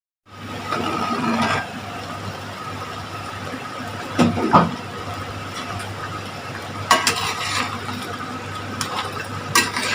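Mutton korma simmering in a pot with steady bubbling and a low hum, interrupted by a few sharp scraping stirs near the middle and end.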